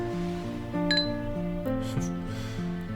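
Glasses clinking together in a toast, two quick bright chimes close by, with soft background music running underneath.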